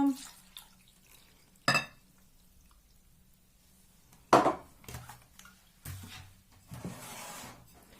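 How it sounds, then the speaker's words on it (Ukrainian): Liquid batter for achma poured into a bowl and stirred, with a few sharp knocks of a utensil against the dish, splashing pours and a longer stretch of wet mixing near the end. "І знову все гарненько-гарненько перемішую"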